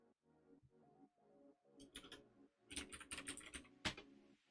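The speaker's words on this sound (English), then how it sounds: "I have a noisy keyboard because people like the ASMR of it" Typing on a noisy computer keyboard, a run of close clicky keystrokes that starts sparse and turns into quick, loud bursts, with no talking.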